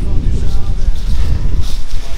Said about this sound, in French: Bon, aujourd'hui il y a énormément de vent.